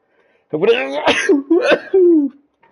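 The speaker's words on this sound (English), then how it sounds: "I sneeze." Someone sneezes during a gaming session, a short vocal burst with a sharp catch and a trailing voiced exhale, close and fairly loud, with some throaty sound around it.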